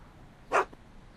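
Einstein, Doc's dog in the Back to the Future video game, gives a single short, sharp bark, fairly close, against a quiet background.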